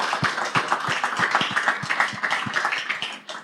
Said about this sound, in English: One applause for our guests.